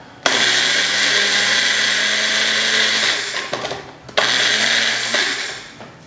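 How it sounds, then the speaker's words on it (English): A blender grinds a quarter cup of oats into coarse flour, a loud steady whir running for about three seconds, cutting out briefly, then starting again for another two seconds. "I'm just going to pop this on here, grind it up."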